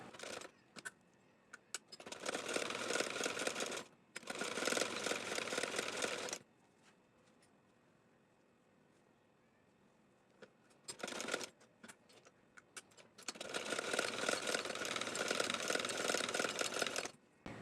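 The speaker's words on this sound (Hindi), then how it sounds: "हमें सबसे पहले ये साइड वाली सिलाई लगानी है। हम इस साइड भी स्टिच कर लेंगे" A sewing machine stitching the side seam of a baby girl's ruffle top, running in loud close bursts of rapid stitching separated by quiet pauses.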